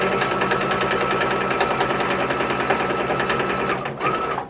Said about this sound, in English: So it's just literally stitching it together.